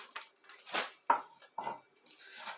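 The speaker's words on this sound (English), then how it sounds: "I'm just going to chop these up." A kitchen knife chops frozen peppers on a board, giving about four sharp, separate cuts with short pauses between them, close and fairly quiet with no talking.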